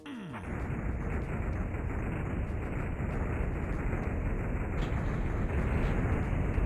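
Rocket launches and explosions in the Duke Nukem 3D video game, a dense, continuous rumbling blast wash that stays loud and steady throughout, with no clear separate hits standing out.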